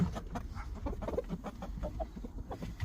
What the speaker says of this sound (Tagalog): Mga natural yan na manok